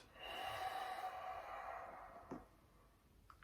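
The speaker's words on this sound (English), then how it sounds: "Breathing out." A person exhaling during a three-part yoga breathing exercise, a soft, airy, drawn-out breath out that fades gradually, followed by a faint click, close and quiet with no talking.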